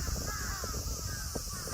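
Crows cawing outdoors in Kanazawa, Japan, on a breezy day: a few scattered caws over a steady wash of background noise, moderately close.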